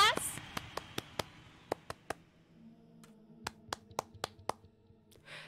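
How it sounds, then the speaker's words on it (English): Hands clap up close, about fifteen sharp, uneven claps spread over several seconds, with a voice faintly present in the background. "Round of applause."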